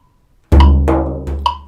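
Resonant strokes on a frame drum, a deep booming first hit followed by brighter ringing taps in a steady pattern of four notes per pulse at a slow tempo of 70, close and loud with no talking.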